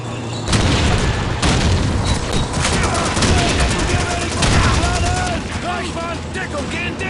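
Call of Duty 2 battle sounds, with a loud blast and dense continuous gunfire filling the whole clip, shouting voices mixed in underneath.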